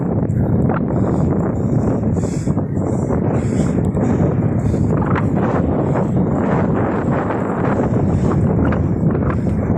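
Strong wind gusts across an open outdoor area, a steady loud roaring rush buffeting the microphone throughout, with no talk over it.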